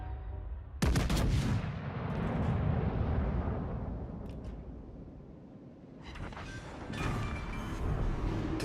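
Battleship main guns firing armor-piercing shells in a naval video game, two heavy booming salvos with rolling rumble after each, sharp sudden onsets and decaying low roar between.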